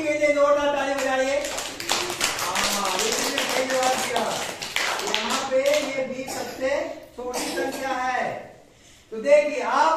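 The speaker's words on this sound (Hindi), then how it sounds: "जोरदार ताली बजाइए" Children in a classroom clap in applause, a dense patter of hand claps mixed with voices and talk that runs almost without a break for about ten seconds.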